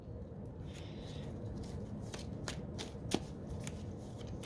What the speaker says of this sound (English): I'm just trying to shuffle up real fast, man.